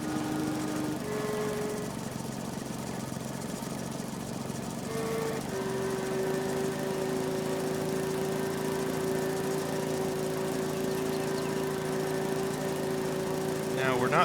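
Mower cutting grass in the video game Farming Simulator 22, a steady droning engine hum with a sustained whine that holds throughout, with a person talking over it.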